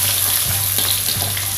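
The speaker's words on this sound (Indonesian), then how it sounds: "Masukin bawangnya ya, digoreng dulu nih bawangnya biar mantap rasanya ya." Shallots frying in hot oil while preparing village-chicken gulai, a steady close sizzle with faint crackles throughout, no talking.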